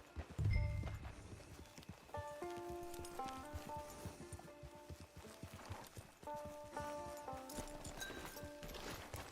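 Horse hooves clip-clop in a video game, a steady rhythmic walking gait heard fairly close under a backdrop of melodic game music, with a brief low thump near the start.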